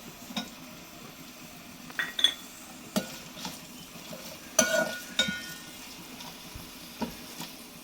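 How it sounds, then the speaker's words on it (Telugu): Onions frying in a pan for vegetable noodles, a soft steady sizzle beneath scattered clinks and scrapes of a utensil stirring against the pan. "ఆనియన్స్ వేగాయండి"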